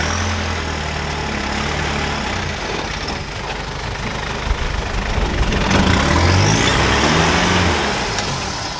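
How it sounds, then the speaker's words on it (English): An off-road truck's engine drones and rises in revs while its tires lose grip on a climb, a steady loud rumble swelling near the end with no talking. "they're breaking traction and I'm not able to pull myself up"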